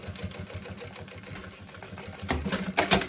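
A sewing machine stitches a makeup pouch with a rapid mechanical whir, close by and fairly loud, growing louder and more clattery toward the end.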